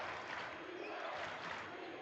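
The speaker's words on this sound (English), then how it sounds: "the crowd is back into it just like that" A high school boys basketball crowd in a gym at Aberdeen Central at Watertown cheers and roars steadily, a dense wash of many voices filling the space without pause.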